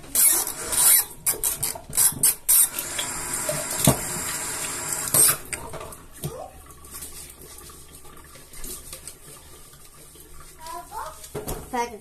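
Water from a tap runs into a sink while a drinking glass is washed, loud close splashing and gushing bursts at first, then quieter trickling and rinsing with a few clinks near the end.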